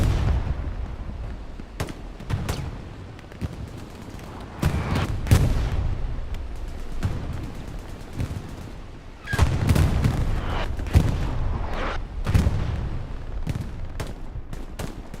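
Artillery and grenade explosions in the Hell Let Loose video game on the Stalingrad map, a dense battle of repeated booms and cracks mixed with gunfire, with several loud blasts rising over a steady rumble throughout.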